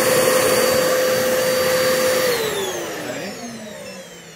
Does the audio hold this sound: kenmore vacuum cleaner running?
yes